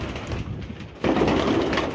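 Pigeons cooing in a loft, soft throaty coos that become fuller and louder halfway through, close by with no talking.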